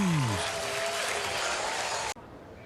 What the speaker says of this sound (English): And listen to the fans. And that booing.